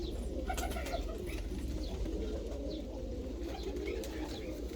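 Breeding pigeons in a loft coo softly and steadily, several birds overlapping in a continuous low murmur with occasional higher chirps on top.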